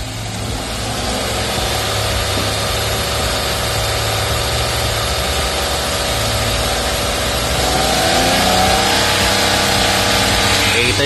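The engine of a Suzuki DA17V 4x2 van with a Tiptronic AGS gearbox idles loudly and close by, then is revved so the pitch climbs near the end.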